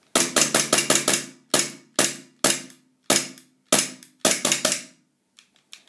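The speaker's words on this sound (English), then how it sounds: "That is a gun out of gas." A KWA KM19 metal airsoft pistol dry-fires with its gas spent, giving loud, sharp mechanical clacks in quick bursts of several, some single, with brief pauses between and two faint clicks at the end.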